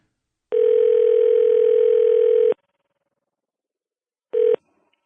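A steady telephone dial tone sounds loud and clean for about two seconds while a call is being placed, then silence, then a short second burst of the same tone.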